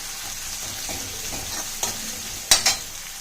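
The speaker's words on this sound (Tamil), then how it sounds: "இப்போ இதை நல்லா வதக்கிடுங்க." Onion sautéing in hot oil with spluttered mustard seeds, cinnamon, cloves and bay leaf, a steady close sizzle with a few sharp scrapes of stirring near the end.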